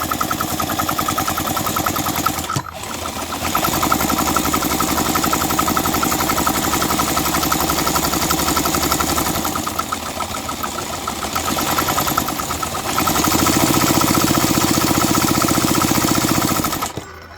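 A McCulloch 740 chainsaw engine runs loud and close, with a rough, uneven buzzing note as a suspect spark plug fires irregularly. Its pitch and strength shift, and a brief dropout near the start gives way to a heavier stretch toward the end.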